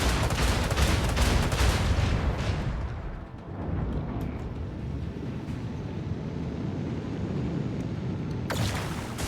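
Spaceship combat in the Rogue Trader video game, a ship taking a rear shot amid heavy weapon fire: dense, loud rumbling barrages of gunfire and blasts, easing into a sustained low roar before another sharp burst near the end.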